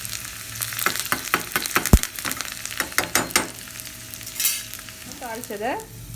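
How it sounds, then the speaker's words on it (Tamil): Onion, curry leaves and a dried chilli temper in hot oil with a crackling sizzle and quick stirring scrapes close by; one sharp knock on the pan comes early, and the frying softens toward the end. "வெங்காயம், கருவேப்பிலை போட்டு நல்லா தாளிச்சுக்கோங்க."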